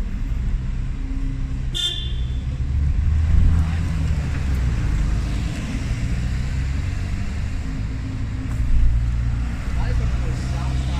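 Traffic rumbles close by as an ALX300 bus passes in Liverpool One, with a short horn toot early on and voices talking over the street noise.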